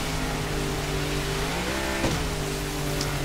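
A car driving in the video game GTA5, a steady engine hum that rises in pitch as it accelerates, with a brief bump partway through.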